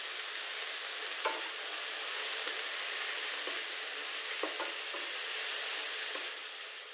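Chopped onion and green chili fry in a pan for an Assamese ash gourd dish, a steady close sizzle with a few light scrapes of stirring and no talking.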